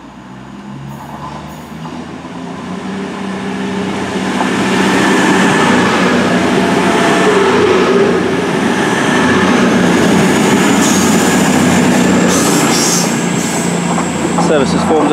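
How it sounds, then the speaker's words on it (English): A Cross Country Class 221 diesel unit runs through Brockenhurst station on the South Western main line, heading from Bournemouth toward Manchester Piccadilly. A rumbling roar swells over several seconds and holds loud and close, with rail clatter and a high whine. "the second train of the day is a passing cross-country service bound for Manchester Piccadilly."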